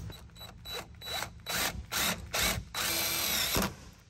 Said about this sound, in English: So we're just zip tying it in nice and